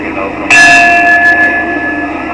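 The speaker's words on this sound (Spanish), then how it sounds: "Los últimos golpes de campana." A single church bell strike during a religious procession rings out loudly and sustains with a bright, slowly fading tone over a low background hum.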